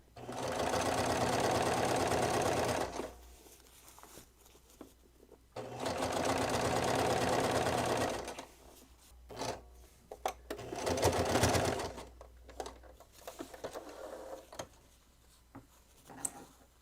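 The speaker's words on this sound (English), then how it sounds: "I'm just going to sew my casing channel and feed it just like I feed, you know, elastic for a scrunchie or whatever." Sewing machine stitching a fabric casing channel on improvised snow pants: three long runs of steady close mechanical whirring and needle clatter, split by quiet gaps with faint handling noise.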